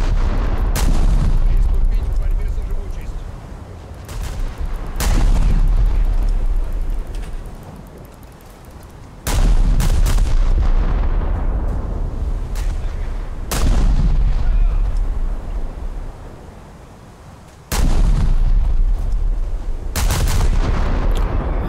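Heavy naval guns fire in the War Thunder video game, booming salvos at regular intervals of roughly four seconds, each a loud crack followed by a long rumbling decay.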